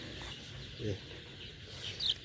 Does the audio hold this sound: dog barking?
no